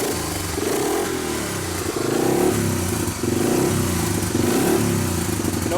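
A 1985 Honda ATC250ES three-wheeler idles close by, then revs up and falls back in several surges, its engine note loud and slightly clattery, with no talking.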